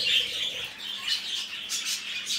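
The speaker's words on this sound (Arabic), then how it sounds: "هذا تصوير طيور الحب." Pet lovebirds squawk and chirp in a home, a cluster of sharp, piercing calls repeating in quick irregular bursts, close and fairly loud with no talk.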